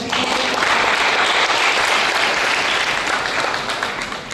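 A crowd claps in dense, sustained applause that stays loud and even, fading slightly at the end.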